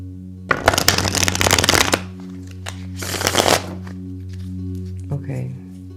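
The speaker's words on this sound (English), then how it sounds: "let's reshuffle the cards thoroughly" Tarot cards are riffled and shuffled at close range in two loud, crisp flurries with a pause between them, over a steady low electronic hum and some faint handling noise.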